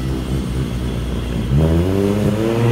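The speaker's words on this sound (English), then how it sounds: "Is that a Supra?" Toyota Supra engine revving up, a loud close growl with a rising tone in the second half, continuous and without talk.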